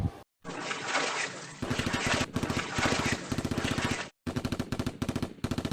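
Rapid bursts of automatic gunfire, loud and close, broken by brief pauses between volleys.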